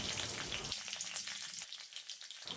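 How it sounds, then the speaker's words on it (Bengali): Dried red chillies, cut and dropped into hot oil for tempering, crackle and sizzle steadily in a pan, a close continuous frying hiss with fine pops throughout. "তেলটা গরম হয়ে গেছে, এখন দুটো শুকনো লঙ্কা কেটে দিয়ে দিচ্ছি ফোড়নে"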